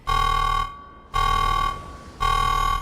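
A loud buzzing alarm sound effect plays in a game stream of Sekiro, three harsh sustained blasts separated by short gaps, with no talk over it.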